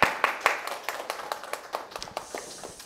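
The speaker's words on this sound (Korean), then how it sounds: "감사의 박수 부탁드리겠습니다" Applause from a small group at a Korean morning seminar, thinning out into a few scattered, separate claps that fade toward the end with no talk over them.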